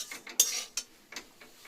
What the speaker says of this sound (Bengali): তাই দিয়ে চিড়ে ভাজছি